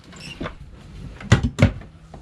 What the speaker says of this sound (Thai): อันนี้เป็นอะไรวะ คล้ายลิ้นชักอะ ต้องกดหรือเปล่า กดกระเด้ง